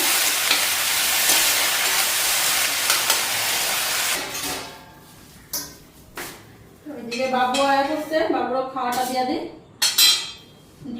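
Loud, steady hiss of food sizzling in hot oil with turmeric fills the first few seconds, then fades under someone talking and a few utensil clinks.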